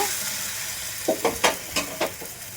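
Flatbread frying in a pan for a healthy breakfast: a steady sizzle runs throughout, broken by five or six short scraping, tapping knocks as the bread is turned and flipped, close and moderately loud, with no talking.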